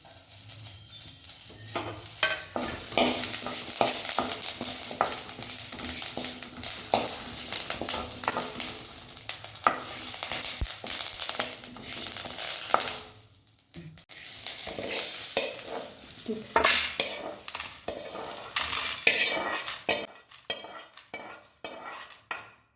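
Onion and curry leaves sautéing in an oiled pan, a loud, busy sizzle with frequent spatula scrapes and clinks, pausing briefly midway before resuming.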